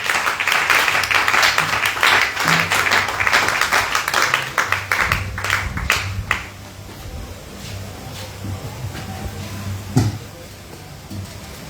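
Congregation at a church service clapping and acclaiming loudly, dense applause with shouts that tapers off midway, leaving quieter scattered sounds and a brief voice near the end.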